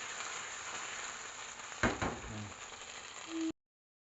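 Chicken fillet frying in hot oil, a steady broadband sizzle heard alone, with a brief clatter partway through before it cuts off.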